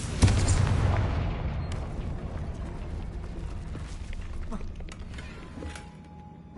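A Confringo blasting spell in Hogwarts Legacy cast with a shouted incantation, followed by a loud booming burst and a long rumbling tail of scattering debris that fades over several seconds.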